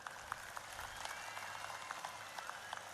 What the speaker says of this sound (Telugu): ఒక్కసారి చెవులు పగేటట్టు చప్పట్లు కొట్టండి మరి.